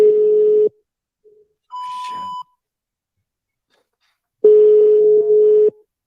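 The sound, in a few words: telephone ringing on outgoing call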